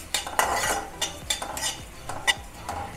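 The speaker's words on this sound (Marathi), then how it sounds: "सगळ्यात आधी धणे भाजून घ्यायचे" Coriander seeds dry roasting in a kadhai get stirred with a metal spoon, producing quiet scraping and rattling clinks in an irregular rhythm, with a faint crackle underneath.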